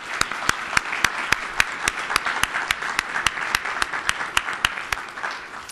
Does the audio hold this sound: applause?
yes